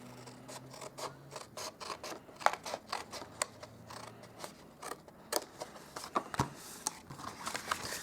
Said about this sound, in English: And then on here, we're going to cut that off.